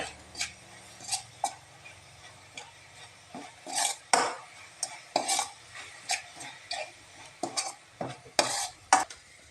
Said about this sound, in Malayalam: തേങ്ങയും അവലും പഞ്ചസാരയ്ക്കകത്തിട്ട് നല്ലതുപോലെ വഴറ്റിയെടുക്കുക.